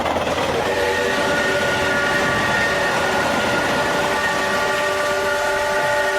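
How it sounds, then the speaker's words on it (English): A train rumbles past with a loud, continuous roar of rail noise and sustained horn tones, close and steady throughout without speech. "I learned to love the sound of a train engine from a distance"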